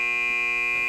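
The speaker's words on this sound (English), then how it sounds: "that electric buzzer takes us to Peggy Cass" A loud, steady electric buzzer drones without a break on a TV game show panel, sitting alone and close for the whole moment.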